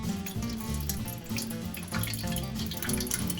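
Two tablespoons of water run into an empty aluminum can, heard as a close, continuous splashing pour lasting a few seconds, with no voices.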